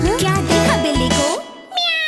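Playful cat meows ring out in a Hindi children's song, several short rising and falling calls over bright music with sung voices.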